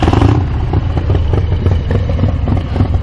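A 1991 Harley-Davidson Dyna Sturgis V-twin running close by, a loud, steady, lumpy low rumble with a rough, uneven beat and no voices.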